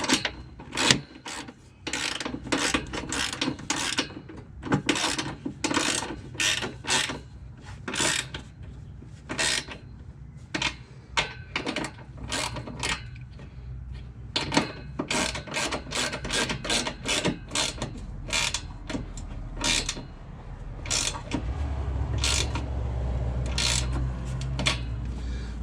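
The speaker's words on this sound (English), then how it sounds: "we're going to tighten down the bolts against the cab up here first, bolts here second, and here third to finally pinch it all up" A ratchet tightens bolts on the cab mount of a Ram truck, giving rapid, close bursts of sharp clicking in irregular runs with short pauses between strokes. No one talks.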